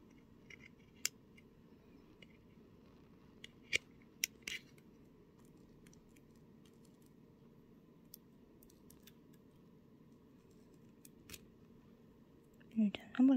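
Scissors trim artificial nail tips in a few sharp, separate snips over a quiet room hum, with a burst of handling noise at the end.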